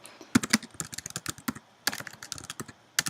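Rapid typing on a computer keyboard, with bursts of sharp clicks and key taps, a brief pause near two seconds, then more keystrokes, close and fairly quiet with no talking.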